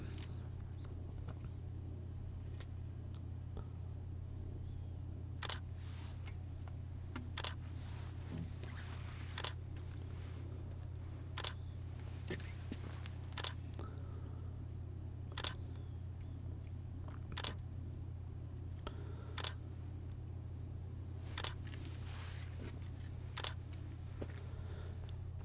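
Repeated DSLR camera shutter clicks firing at steady intervals of about two seconds while capturing a long run of astrophotography calibration frames, crisp and close over a constant low electrical hum, with no talking.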